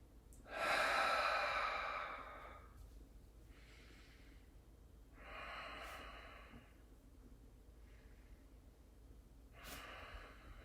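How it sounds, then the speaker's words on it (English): Slow, deep breaths during a yoga hamstring stretch: three long, airy exhalations, the first loudest and closest, spaced a few seconds apart with quiet gaps between. "3 more breaths"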